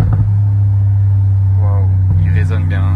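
Mercedes G-Class HOF engine in Sport Plus mode, a steady deep rumbling idle drone heard close, with a voice speaking over it.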